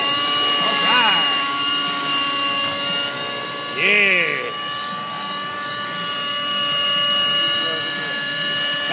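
A small motor whines steadily at high pitch, its tone swelling and dipping as the model helicopter maneuvers nearby.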